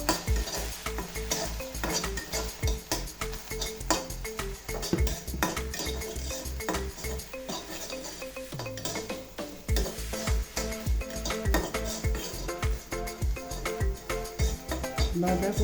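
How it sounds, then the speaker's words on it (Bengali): Cabbage and prawn mixture with turmeric frying lightly in a pan, a steady sizzle under constant stirring and scraping, with busy clinks of a metal spoon against the pan throughout. "এখন আমি হালকাভাবে একটু ভেজে নেব আর সামান্য পরিমাণ হলুদ গুঁড়ো দিব"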